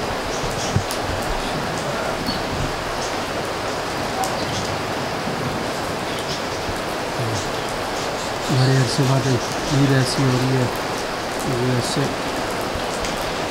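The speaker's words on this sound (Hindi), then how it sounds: "बारिश" Heavy rain falls steadily outdoors on an Eid day, a dense, continuous hiss throughout while someone talks over it.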